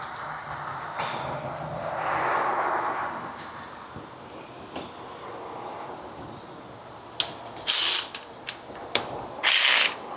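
A ratchet clicks in quick bursts tightening the alternator bolt on a 2004–2008 Acura TL, close and sharp, with softer handling noises and a brief low murmur earlier.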